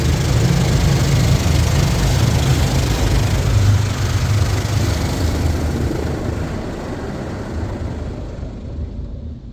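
Mark VII Aqua Jet GTO-300 car wash doing a side rinse, with a loud, steady rush of spraying water and machinery hum that gradually fades toward the end. No voices.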